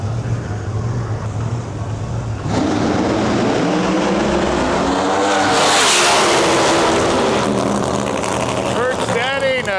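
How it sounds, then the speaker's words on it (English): A screw-blown 1969 Camaro pro mod drag car at a drag strip, its engine roaring loud and close, rising sharply into a sustained howl, with an announcer talking over it. "Kurt Stading from P2 Contracting, P2 Racing, pulling up with his screw-blown 69 Camaro"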